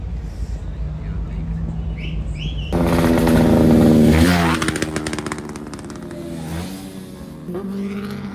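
Racing car engine revving loudly at a car race in Lonavala, a sustained roar that swells to a peak and then settles into a steady drone, with people talking nearby.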